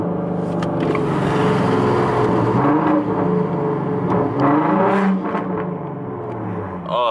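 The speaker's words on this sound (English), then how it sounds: "I do love how it sounds downshifting though." A catless V6 Ford Mustang exhaust with resonators rumbles through downshifts, its revs rising and falling in several swooping blips over a steady drone, fairly near and without talk.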